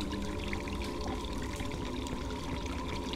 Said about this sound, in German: Ey, hier steht jetzt alles unter Wasser.